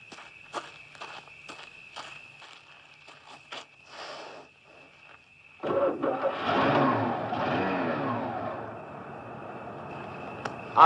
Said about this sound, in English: Carl, fix Captain Von Trapp's car so that it will start.